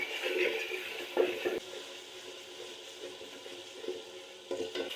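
Ginger and garlic paste frying in a pan, a faint low sizzle with occasional soft stirring scrapes, quiet and steady with no talk.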